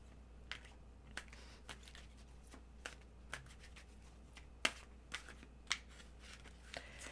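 Tarot cards being shuffled by hand, a string of short crisp riffling snaps and clicks spaced irregularly about once or twice a second over a faint steady hum, with no talking.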